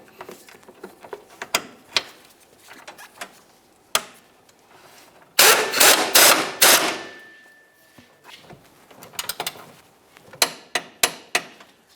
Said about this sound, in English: Go ahead and snug this nut and then torque it to 70 foot-pounds.